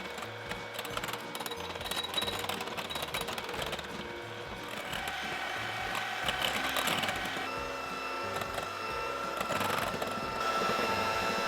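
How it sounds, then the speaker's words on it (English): An electric hand mixer whips a powdered sugar filling for a giant Oreo cake, giving a steady, close whirring motor drone with grinding, rattling texture that builds slightly louder over the span, with no talk. "Let's use the hand mixer again to mix these ingredients."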